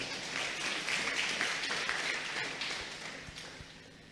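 A church congregation applauds during a pastor's sermon, a fairly distant, diffuse wash of clapping that swells and then fades.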